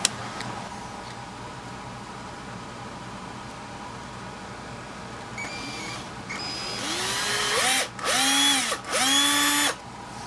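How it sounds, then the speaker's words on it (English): A power drill whirs steadily drilling a hole in a Marx Big Bruiser remote control toy, then revs up in several short, loud bursts with rising pitch near the end. "we'll drill that out"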